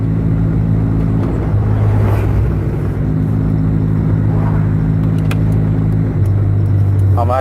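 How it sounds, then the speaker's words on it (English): A steady loud engine drone and road rumble fill the interior of an old car being driven, with a faint clicking sound near the end. "I'm actually driving my old car."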